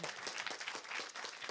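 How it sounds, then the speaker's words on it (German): A crowd at a live music event in Berlin applauds to welcome the first band, producing dense, continuous clapping that is fairly faint and distant, with no voices standing out. "Wir begrüßen die erste Band mit einem fetten Applaus"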